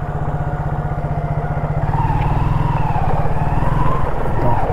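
A KTM Duke 250 motorcycle cruises along an open road, its steady engine drone loud and close throughout, building slightly in intensity midway with wind rush over the top.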